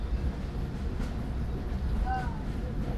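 A train rolls along in the Indian Bike Driving 3D game, a steady low rumble of the carriages with a short tonal whistle partway through.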